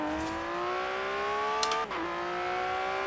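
In the Forza Horizon 3 racing game, a Lamborghini Aventador SV engine wails as it accelerates, its tone climbing smoothly before a brief dip at a gear change and then rising again, with no talk.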